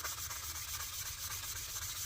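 A rusty screwdriver shank is sanded with 800 grit sandpaper, a soft, steady back-and-forth rubbing hiss, fairly quiet and close, with no speech.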